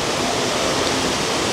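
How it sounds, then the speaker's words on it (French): A waterfall near Lake Toba, Sumatra, drops twenty to thirty metres onto large rocks below, making a steady, close, full rush of water that does not change and has no voices over it. "le seul morceau de la cascade que vous verrez"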